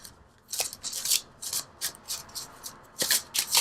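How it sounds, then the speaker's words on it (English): Oracle cards are shuffled by hand in a series of crisp, papery riffling bursts in an uneven rhythm, close and fairly quiet, with short pauses between them. "let's pull from the Enchanted Map Oracle cards just to bring it together"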